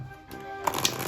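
Dark Wood tarot cards are riffle shuffled in one quick, close burst of rapid flutter ending in a soft snap, with no voices.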